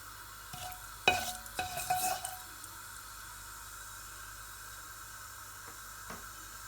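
Tomatoes drop into frying fish curry masala, causing a short burst of sizzle and stirring clatter near the start. A steady, quieter frying hiss continues after it fades.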